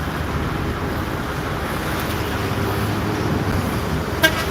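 Dense road traffic on Jalan Sukarno Hatta in Palembang, a steady loud rumble of engines with a single short horn toot near the end.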